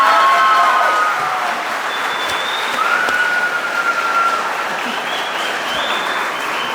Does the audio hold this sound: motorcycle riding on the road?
no